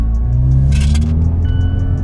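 A Mazda 6 from the 2018-2023 generation drives with fresh spark plugs: a steady, smooth low engine drone runs throughout, with light jingling and ticking rattles on top.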